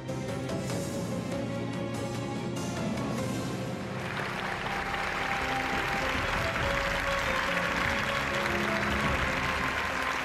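Applause from the audience at a Quran recitation contest, a steady, moderately distant wash of clapping that swells a little partway through and continues throughout.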